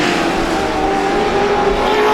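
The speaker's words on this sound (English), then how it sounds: "Harklerode's putting down some pretty good laps here at Star Speedway" Race cars lap Star Speedway during a GSPSS 100 event, a loud, continuous engine roar with rising whine as the field cycles through, no talk.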